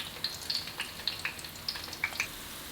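Herbs and aromatics frying in oil in a wok until browned, a steady soft crackle with scattered sharper pops and spits, close and fairly quiet, no talking.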